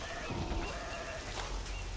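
Goat bleating in the open-world game Horizon Forbidden West, a short wavering bleat over a constant dense background of ambient game sound.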